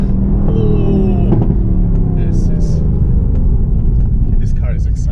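A Mercedes-AMG GTC rumbles loudly and steadily while driving, its engine note a deep continuous drone heard from inside the cabin, with people talking over it.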